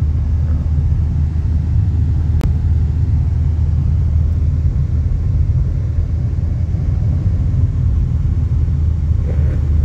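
A loaded vehicle in second gear climbs an uphill slope, its engine giving a steady, loud low rumble that holds throughout, with one brief sharp click partway through.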